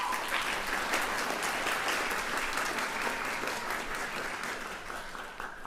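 A graduating nursing class at a pre-licensure pinning ceremony applauds the audience, producing a steady wash of many hands clapping in a large room, sustained for several seconds and slowly easing off.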